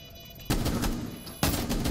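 Two loud, close shotgun blasts, a bit under a second apart, fired in a tactical shooter video game, each a sharp burst with a short decaying tail, with no voices.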